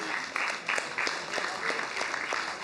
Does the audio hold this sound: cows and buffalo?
no